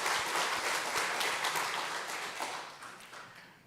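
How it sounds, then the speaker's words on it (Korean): Sunday church congregation applauding in unison, a dense burst of clapping that slowly fades over a few seconds. "박수로 영광을 돌립시다."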